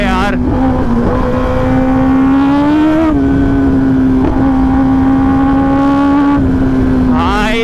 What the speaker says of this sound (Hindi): अब प्रॉपर एक बार पुल करते हैं बाइक को।